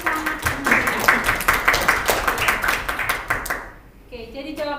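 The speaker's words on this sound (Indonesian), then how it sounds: "Oke, tepuk tangan buat Yohanes." Students in a classroom clap for a classmate's correct answer, a scattered, lively patter of hands close by that fades out, followed by a brief voice.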